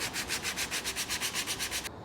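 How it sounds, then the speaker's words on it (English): A wooden ornament being sanded by hand with 80-grit sandpaper: close, steady back-and-forth scratchy strokes in an even rhythm, heard alone, stopping abruptly just before the end. "we want to go ahead and sand it down. So I'm starting off with my 80 grit sandpaper"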